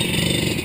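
Enduro motorcycle engine revving loudly and close on an off-road trail ride, a brief continuous rough roar with no pauses.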